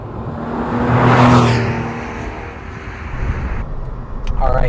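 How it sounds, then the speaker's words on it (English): A 1998 Porsche 911 Carrera S, the air-cooled 993, pulls away on the road, its engine swelling to a loud peak and easing before building again, with road noise steady beneath. "setting off here in the 993"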